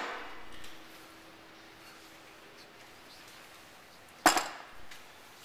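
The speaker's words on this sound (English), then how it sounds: "Grab the rotor, and we're going to pull out and down in one quick motion." Disc brake rotor pulled off the hub in one quick motion, with the bearing and seal coming off: one sharp metallic clunk, then a softer knock, against a quiet background.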